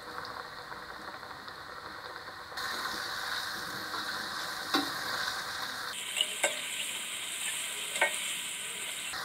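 Battered boneless fish frying in oil over medium heat, a steady close sizzle that swells louder partway through, with a few soft clinks and pops and no talking.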